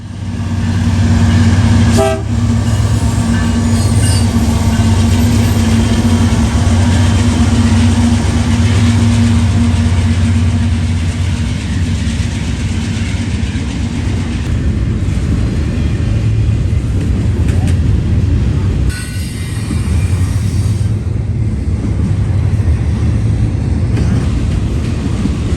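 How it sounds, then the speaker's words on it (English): CPKC freight train 132, running from Montreal to Chicago under CSX symbol I-165, rolls by on the CSX Toledo Subdivision as a loud, steady rumble lasting the whole stretch, with a short horn toot near the start. "really CPKC train 132 from Montreal, Quebec to Chicago, Illinois, but runs under CSX symbol I-165"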